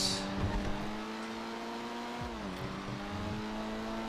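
A ZR350 engine drones steadily through a race lap in GTA FiveM, one car's tone holding level, then dipping briefly as it shifts or slows and climbing back, close and moderately loud.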